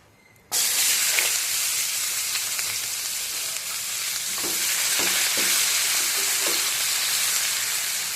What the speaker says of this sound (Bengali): এখানে পেঁয়াজটা আমি হালকা করে ভাজা করে নেব